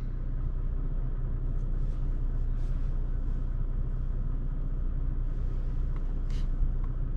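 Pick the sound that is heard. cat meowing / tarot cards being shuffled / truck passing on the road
truck passing on the road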